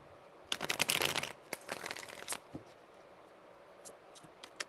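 Tarot cards are shuffled close up in a quick flurry of papery riffles and flicks, followed by a few softer, scattered card taps as the handling slows.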